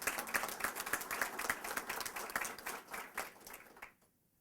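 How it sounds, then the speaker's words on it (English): A room at a county police announcement applauds a newly named deputy chief, with quick clapping that holds steady and then dies away into silence near the end, somewhat faint. "Can we give him a round of applause?"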